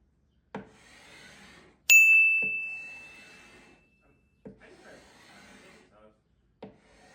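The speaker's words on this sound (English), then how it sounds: "I'm going to come back with my carbide scraper again, and I'm going to get the rest of that finish off" Sharp carbide scraper strokes remove old finish from an antique wooden dresser, a few separate pulls spaced by pauses, one followed by a ringing metallic tone, close and clear.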